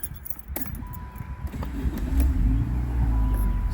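A 1989 Chrysler LeBaron GT Turbo with 32k miles starts up: keys jangle, then the engine catches and settles into a low, steady, quiet idle that rises in loudness toward the end, with no talking.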